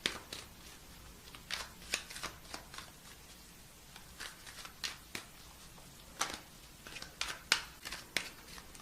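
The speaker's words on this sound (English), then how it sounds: "I'm having a hard time shuffling these." Tarot cards being shuffled by hand, giving a series of soft, papery riffles and snaps in uneven bursts, close and fairly quiet, with no talking.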